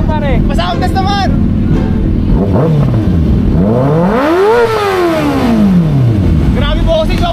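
A motorcycle engine revs loudly nearby, its pitch climbing and falling in long sweeping rises over several seconds, with excited voices talking around it.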